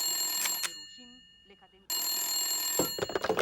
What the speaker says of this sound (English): At 6 a.m., the phone rings.